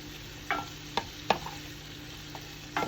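Beet and potato salad being stirred and mixed in a bowl: a few soft scrapes and clinks spaced apart against a quiet background, no voices.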